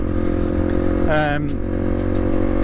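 A 1998 Honda XR 250R motorcycle running while ridden, a steady close engine drone with a brief rising whine partway through, and someone talking over it.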